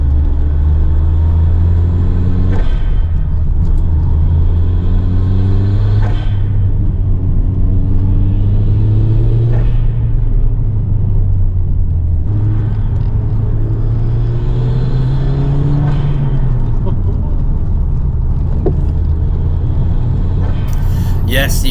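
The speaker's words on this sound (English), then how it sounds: "you can hear the suspension knocking and rolling around" A Toyota Celica with worn suspension driving along a road, a steady engine drone with occasional dull knocks and clunks from the suspension rising through it, recorded from inside the car.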